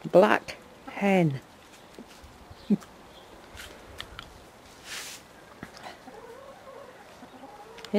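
A black hen clucks in short, loud bursts near the start, followed by scattered fainter clucks and farmyard noises against a quiet outdoor background.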